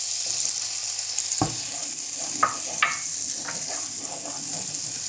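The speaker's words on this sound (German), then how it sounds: "und darin werden dann die Zwiebeln karamellisiert." Onions caramelizing in butter with cane sugar in a frying pan, a continuous close sizzle broken by a few sharp clicks and scrapes as the pan contents are stirred.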